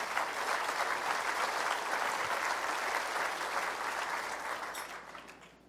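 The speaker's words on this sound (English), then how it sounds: "So please give her a round of applause." A large audience at the 2018 New Brunswick State of the Province Address applauds the premier's wife, a sustained, dense wash of clapping from a big hall that holds steady and then fades out near the end.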